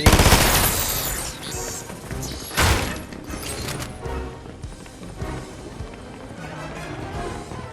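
SMG fire in a video game, rapid bursts of shots crackling with a loud spike in the middle, amid busy game noise and no talking.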